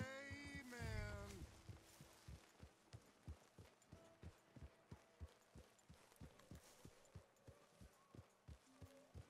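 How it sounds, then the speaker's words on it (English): A horse gallops in the Red Dead Redemption 2 video game, with steady rhythmic hoofbeats at a moderate pace, fairly faint, following a brief burst of other noise at the start. "This horse does not stop when it's told to."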